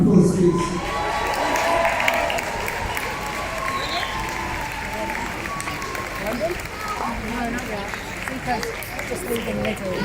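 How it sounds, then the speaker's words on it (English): A crowd at the Grenfell Tower anniversary memorial applauds outdoors, a sustained wash of clapping with scattered cheers and children's voices mixed with crowd chatter. "Give a big round of applause, please."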